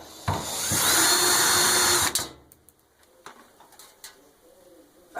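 A cordless power drill whirs for about two seconds, loud and close, as it backs screws out of an Amana NED7200TW dryer front, then stops, followed by scattered faint clicks and handling taps.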